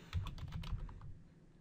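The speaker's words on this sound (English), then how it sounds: "So right now I'm just going to type in," Rapid keystrokes on a computer keyboard while a website name is entered in a Weebly site builder, a quick burst of close clicks that trails off into quieter taps.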